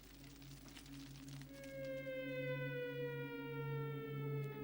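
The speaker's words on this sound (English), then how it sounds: "To the frightening sound of air raid sirens" Air raid sirens wail over a city at night as Puyi and his family flee, several rising tones climbing and holding in a steady, loud, overlapping drone above a low hum.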